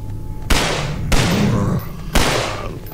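Gunshots in the horror shooter game Nightmare House 2: three loud, widely spaced blasts, each with a long ringing tail, heard close up with a low steady hum underneath.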